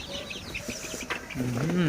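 Young chickens give a few brief, soft clucks close by on a cold day, and a person talks over them near the end.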